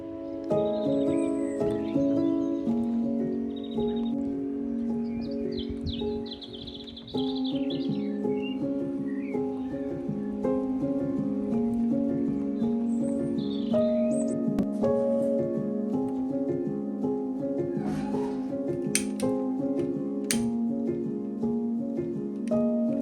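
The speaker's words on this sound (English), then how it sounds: "You can hear a little birdie over here by the vegetable garden, tweeting away." A small bird tweets by a vegetable garden at a countryside cottage, giving faint, scattered chirps in short bursts over a steady tonal background hum.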